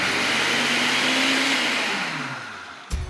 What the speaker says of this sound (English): I'm just gonna transfer all of this to a high-speed blender